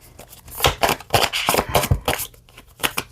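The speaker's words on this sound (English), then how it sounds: "These cards don't like to shuffle that way." A deck of tarot cards is shuffled up close in a series of quick, crisp riffling and snapping bursts, loud and uneven.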